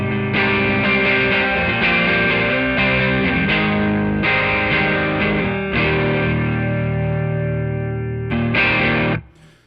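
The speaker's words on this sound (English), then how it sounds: "I really like the sound of a little bit of overdrive and grit and compression" A distorted electric guitar plays chords with a gritty, compressed tone, several strums ringing out, ending with a final chord that cuts off.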